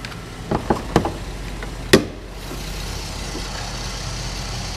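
A Chevrolet Traverse with a 3.6 liter engine idles with the hood open, a steady low hum beneath a few sharp knocks and clicks early on, then settling into an even drone.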